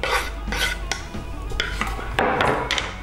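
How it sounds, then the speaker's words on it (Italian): A fork stirs chopped eggplant and mint in a bowl, giving a series of close, irregular scraping and clinking strokes against the dish. "Mescoliamo con una forchetta."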